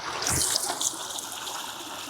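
Water rushing and trickling among rocks near a reservoir, a steady close hiss that swells briefly near the start and then holds evenly.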